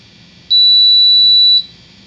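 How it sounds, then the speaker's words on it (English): A QREA 3 gas detector sounds its alarm during cradle calibration: one steady, piercing high-pitched tone lasting about a second, clear and close over a faint low hum. "You saw the red LED indicators, and the alarm went off."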